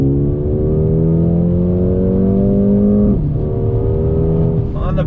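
A 2020 Mercedes-AMG CLA 35 accelerates on throttle, its engine note rising steadily in pitch through a gear, then dropping briefly at a shift before pulling again, loud and close from inside the car.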